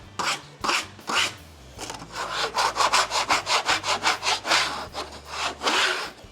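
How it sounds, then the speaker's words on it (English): A scraper rasps sawdust off a rough-cut wood slab in quick, repeated close strokes, steady and rhythmic, with a few slower pulls at the start and end. "So first I'm gonna scrape all this sawdust off the slab."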